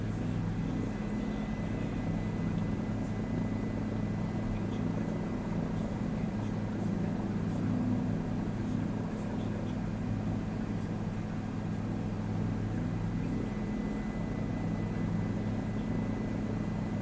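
A helicopter flies in a flight simulator game, a steady low rotor and engine drone that stays constant and even for the whole stretch with no voices.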